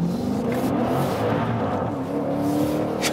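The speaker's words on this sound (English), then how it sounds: "And here I'll accelerate out of the corner from standstill" A Maserati Levante Trofeo V8 SUV with all-wheel drive pulls away hard from a standstill out of a corner, its engine roaring steadily and rising in pitch as it accelerates, heard close from inside.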